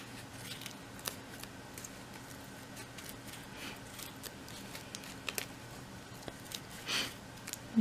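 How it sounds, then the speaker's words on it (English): Quiet, sparse snips and crisp clicks from sharp scissors trimming card for a Halloween shaker card, heard close up with no voices, the cuts coming irregularly with short pauses between them. "You might want some super sharp scissors when you do this."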